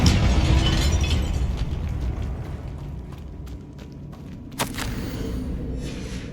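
A Confringo blast in Hogwarts Legacy lets out a heavy, rumbling burst that slowly fades, followed by a sharp crack partway through.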